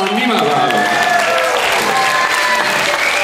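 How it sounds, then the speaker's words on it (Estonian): Loud, dense applause from a rock concert audience fills the whole stretch, steady clapping with crowd noise and a few whistles or cheers over it. "Aga tehke palun aplaus kõigepealt, enne kui me üldse midagi mängime."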